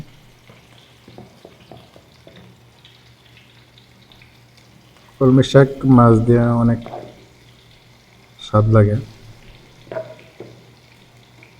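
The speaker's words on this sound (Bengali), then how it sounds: "তেল গরম হয়েছে, মাছ দিতেছি।" Rohu fish fries in hot oil in a wok for a kalmi greens dish, a soft, steady sizzle hissing in the background while someone talks partway through.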